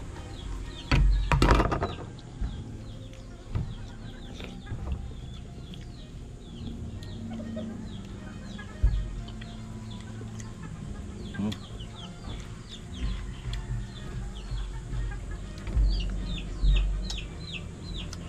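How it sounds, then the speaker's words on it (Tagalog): Chickens cluck softly while eating in a rural provincial yard, with steady scattered clucks over low background rumble and one louder burst near the start. "Kain ng manok."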